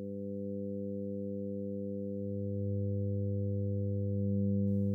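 Several steady sine-wave oscillator tones stacked in additive synthesis hold a pure, constant chord, shifting in level slightly partway through as the oscillator volumes change, with no other sound.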